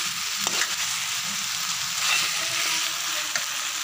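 Potatoes and peas for aloo matar dum sizzle steadily in a pan, a close, continuous frying hiss with a few soft stirring knocks and no talking.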